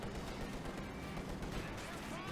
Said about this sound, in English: you see all these mines exploding and they are having a great impact